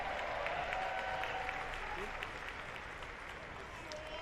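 A stadium crowd roars and applauds at a rugby sevens Olympic qualifier between Mexico and Barbados, a dense sustained wash of cheering and clapping that fades slightly toward the end while a commentator talks over it.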